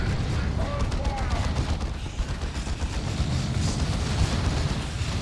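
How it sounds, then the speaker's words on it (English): A missile launcher barrage in a Warhammer 40k: Dawn of War 2 3v3 match unleashes dense, continuous rumbling blasts and crackling explosions, with a commentator's voice talking over the din. "Missile launcher barrage."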